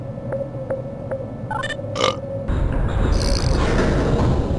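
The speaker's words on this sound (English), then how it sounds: "That burp, though." A loud, drawn-out burp from a character in the Half-Life video game, rising and then settling into a low rumble, heard alone over quiet game ambience.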